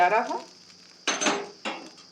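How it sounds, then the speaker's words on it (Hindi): Hot tadka tempering is poured onto a pot of raw mango and wheat-flour kadhi, giving a brief sizzle followed by two sharp clinks of a metal spoon or ladle against the pan, close and alone. "अब डाल देते हैं तड़का"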